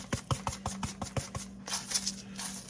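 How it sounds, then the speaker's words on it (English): A seasoning bottle of cilantro lime seasoning being shaken over shrimp: a quick, rhythmic train of faint rattling taps, around eight in a row, then softer scattered shakes against a low hum. "I am just going to give this a good shake all over the shrimp"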